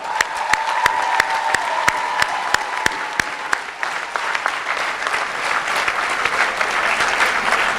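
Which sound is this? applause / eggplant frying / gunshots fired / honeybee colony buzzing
applause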